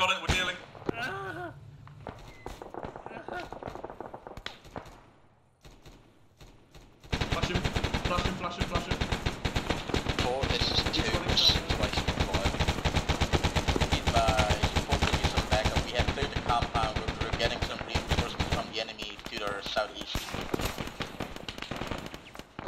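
Gunfire in the video game ARMA 3, with quieter mixed sounds first, then a long stretch of dense, loud machine-gun and rifle bursts that continues steadily to the end, with voices talking over parts of it.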